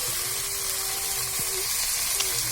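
Goat meat frying in hot oil as it is stirred in a pot, giving a steady close sizzle with a few soft scraping knocks.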